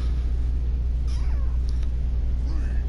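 A cat in the Broforce game meows a couple of times, faint and high, over a steady low rumble of game background noise.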